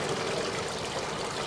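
Nutrient water outflow trickling steadily from a PVC hydroponic system, a continuous soft splashing flow with no other sounds.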